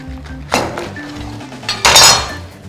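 Knife cutting a pineapple in half, two sharp clattering impacts against a hard surface about a second apart, close and loud, with quiet pauses around them.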